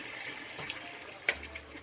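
Water pours into a hot pan to deglaze ribs after beef broth, giving a soft, fairly quiet splashing and sizzling wash with a few brief louder splashes.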